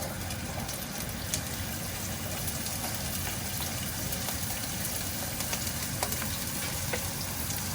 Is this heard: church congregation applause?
no